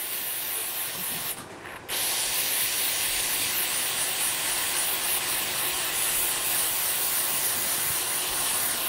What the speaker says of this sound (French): Et maintenant, pour décoller la tâche du tissu, je vais utiliser mon pistolet